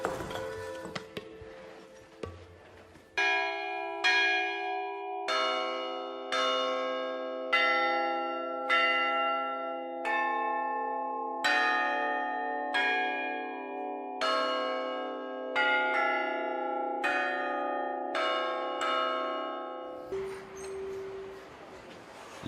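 A cast bronze church bell of copper and tin rings in a series of loud, repeated strikes, each ringing out with a long shimmering hum that overlaps the next, with no voices over them.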